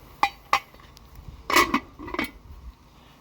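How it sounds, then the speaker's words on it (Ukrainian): A lid goes onto a pot of plov cooked over a small stove, a few sharp metallic clinks followed by a rattling scrape as it settles, close and fairly quiet. "Беру, закриваю кришкою."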